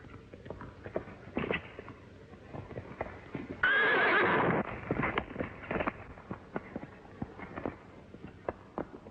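A horse gives a loud, close whinny midway through, set against steady clip-clop of hooves before and after on a 1930s serial soundtrack.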